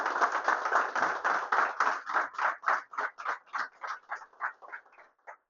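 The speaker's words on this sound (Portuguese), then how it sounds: "Amados, vamos aplaudir Jesus pela vida dessa família." Church congregation clapping together in steady rhythmic unison, loud at first and then thinning into fewer, sparser claps that fade out near the end.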